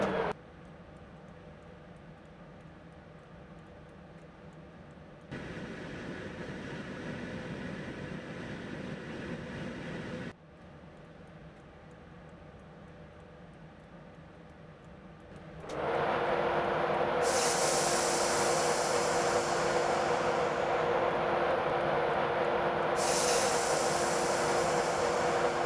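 A Class 91 electric train slows toward a stop at Dunbar on the East Coast Main Line in Train Simulator 2016, a steady rail rumble and hiss that thickens and grows louder near the end, with high brake squeal rising over it.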